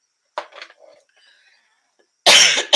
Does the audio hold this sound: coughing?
yes